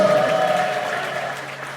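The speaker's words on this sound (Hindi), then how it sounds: "जोरदार तालियां हो जाएगा।" Audience applause at a Jain religious gathering at Golakot tirth, a short burst of crowd clapping heard up close with a steady tone humming beneath it.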